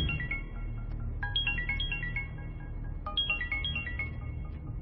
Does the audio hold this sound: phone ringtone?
yes